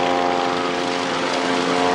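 A Supermarine Spitfire propeller warbird flies past at a 1994 airshow at Wroughton Airfield, its engine giving a steady, loud, droning roar with a strong tonal hum throughout.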